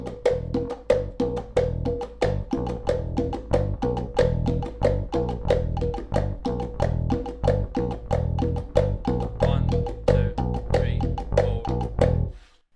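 Congas lay down a steady traditional cumbia groove, with sharp slaps and open tones repeating in an even eighth-note rhythm for the whole stretch, played up close and loud with no talking.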